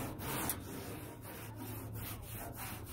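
Shirt rag rubbed back and forth over coarse rusty metal, faint rhythmic scrubbing strokes repeating roughly every half second, close and dry with no voices.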